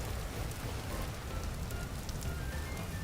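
Rain falls over a farm garden in the survival game Vintage Story, a dense, loud, continuous hiss with faint patter, no voices.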